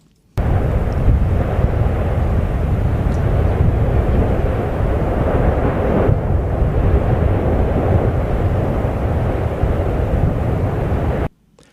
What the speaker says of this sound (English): It is a microphone on the backpack of a skier going down a hill on Hokkaido